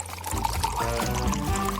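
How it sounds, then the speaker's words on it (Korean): A drink is poured into a glass, a close, continuous splashing and trickling stream that rises in pitch as the glass fills, lasting under two seconds. "잔에 좀 따라볼까?"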